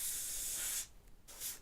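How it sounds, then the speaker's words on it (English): An airbrush sprays paint in a steady soft hiss, then stops briefly and resumes with a shorter burst, close by and fairly quiet. "if your airbrush isn't properly maintained, it's gonna spray paint where you're not aiming"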